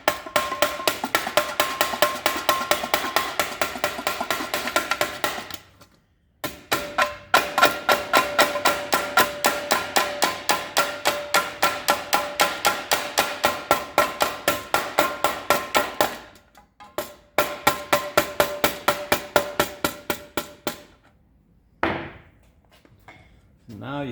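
Steady, rapid hammer blows ring out as a hand hammer strikes a tipped metal blade edge backed by a dolly, in close, loud bursts broken by short pauses.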